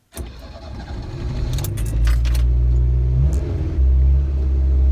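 A Yugo car engine cranks briefly and catches, then settles into a steady rumbling idle, close and loud, with a faint jingle of keys.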